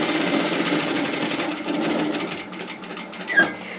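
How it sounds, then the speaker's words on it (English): A sewing machine stitching a seam on a wrap scarf, a steady fast mechanical whir running close and even for nearly four seconds before easing slightly at the end. "So sew those two pieces together."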